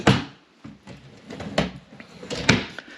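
Drawers on an LED nightstand slide open and shut, giving a series of close wooden knocks and short scraping slides spread irregularly over a few seconds in a quiet room.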